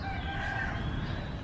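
A rooster crows near a simple beach home with chickens, its call fairly faint over a constant wash of outdoor ambience and low rumble.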